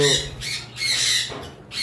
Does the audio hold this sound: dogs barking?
no